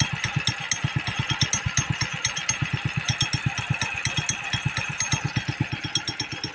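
A modified motorcycle engine runs close by at a fast, steady idle, with a rapid even pulse of firing beats and a metallic rattle throughout.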